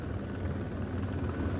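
A helicopter sweeps around Vega island, heard as a steady, continuous low rotor rumble at moderate distance with no voices.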